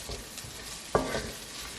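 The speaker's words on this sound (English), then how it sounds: "And then we're going to saute these onions." Onions sauté in a pan with a soft steady sizzle, and a single clatter of stirring sounds midway.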